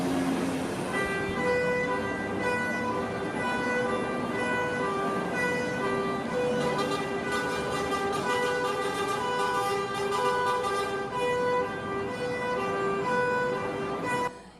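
A loud police car siren wails steadily for a long stretch alongside a blaring horn-like tone, close and continuous before cutting off at the end, responding to a large fire at the top of a building in Canada.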